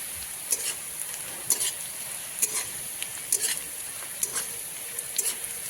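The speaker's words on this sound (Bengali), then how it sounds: "ডালটাকে এবারে পেঁয়াজ ভাজার মধ্যে ছেড়ে দেবো" Boiled dal poured into a pan of fried onions, a loud close sizzle punctuated by repeated stirring scrapes and clinks at a roughly even pace, with no speech.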